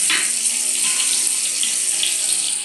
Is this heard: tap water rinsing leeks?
yes